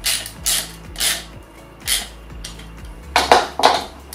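Screw lightly tightened with a self-tapping sheet-metal screw and rubber on the armrest of a Garrett APEX, Ace 400i or AT Pro metal detector: repeated creaking, ratcheting turns in a steady rhythm, close up, ending in a louder metallic rattle.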